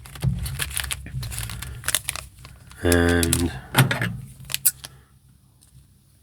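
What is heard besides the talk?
scissors cutting open card pack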